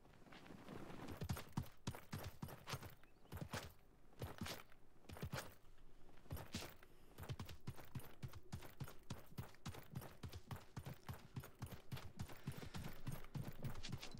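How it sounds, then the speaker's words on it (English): Enemy footsteps in the online battle royale game Realm Royale, a fast run of sharp, evenly spaced thuds lasting the whole stretch, fairly loud and close with no talk over them. "His footsteps are ridiculously loud."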